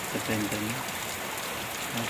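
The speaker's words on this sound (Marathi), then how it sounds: "पद्धतीने पाऊस हा चालू है मित्रांनो भारी पाउस सुरू होते हैं" Heavy night rain pours steadily on a farm, a dense, even hiss filling the whole clip from start to end, with a voice talking over it.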